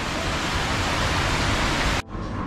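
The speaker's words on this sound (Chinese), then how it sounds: "听听那雨的声音，" Heavy rainstorm pours down on a street in Haikou where people shelter, a dense loud roaring hiss that abruptly drops after about two seconds to a quieter wash of rain.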